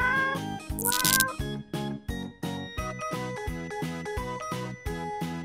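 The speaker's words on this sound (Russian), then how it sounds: "Кот." A cat meows in a rapid regular series of about a dozen short tonal calls, close and clear, with a brief bright jingle near the start.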